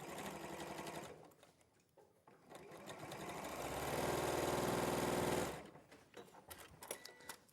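A sewing machine stitches fabric pieces together in a sewing studio, its motor whirring in bursts with a short pause, then a sustained louder run before stopping, followed by light handling noises.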